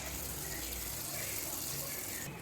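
Thin egg-and-flour batter for egg puri pours steadily into a pan, a continuous watery gushing hiss that runs close and even throughout.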